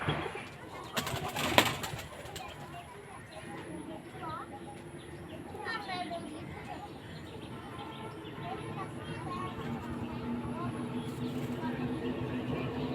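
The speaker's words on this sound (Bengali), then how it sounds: "সে কবুতর খাওয়াচ্ছে" Pigeons cooing as they are fed, soft repeated burbling coos close by in the background, with a couple of sharp knocks near the start and quiet talk in the background.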